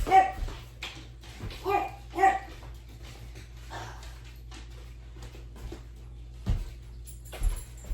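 A pet dog in a home kitchen gives several sharp barks and yips early on, then falls into softer whimpers and faint sounds. The sounds are fairly close but quiet over a low background hum.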